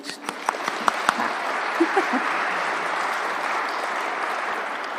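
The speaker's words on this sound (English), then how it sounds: "you're going to get used to clapping throughout the evening" Audience at the Cornwall Heritage Awards ceremony claps, starting with a few scattered claps and building into sustained, moderately loud applause filling the hall.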